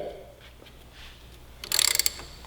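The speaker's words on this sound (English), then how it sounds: "so we're just going to break the jam nut loose there" A wrench cracks loose a Loctite-held jam nut on the shift rod of a 2018 Suzuki GSX-R1000 during a rearset install: quiet fiddling, then a short, sharp burst of rapid metallic ratchet clicks close by.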